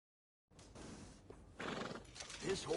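A horse whinnies in a Western-style video game, a close, loud neigh with hoof clip-clops, starting after a brief silence.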